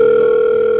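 Steady electronic tone from a mobile phone on a call, a continuous, loud, unbroken hum lasting under a second with no voices.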